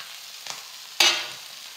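Puti fish frying in hot oil in a pan, heard as a faint scrape followed by a sudden sharp sizzle that flares loudly and then fades over a moment.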